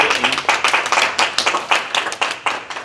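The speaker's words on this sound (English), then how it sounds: "Round of applause." A small audience at a library resources session claps in a short burst, with individual, rhythmic hand claps close by.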